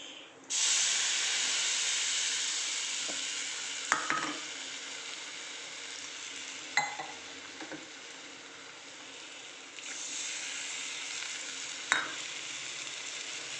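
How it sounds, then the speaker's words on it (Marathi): Batter poured into a pan of cumin seeds over low flame sizzles loudly and steadily, a continuous close frying hiss with a few brief clinks of stirring and no talk. "थोडं जिरे टाकून घेऊया आणि लगेच आपलं जे बॅटर आहे ते आपण टाकून घेऊया"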